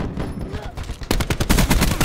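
ICR assault rifle bursts in Call of Duty Black Ops 4, loud rapid automatic fire that breaks in after a brief quieter moment and continues in fast repeated cracks, with game sounds and faint talk underneath.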